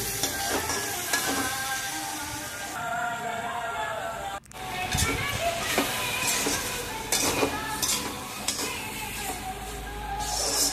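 Softened tomatoes fry in a pan for a sour taro curry, a steady sizzle broken by repeated scraping and stirring strokes, with a brief pause midway.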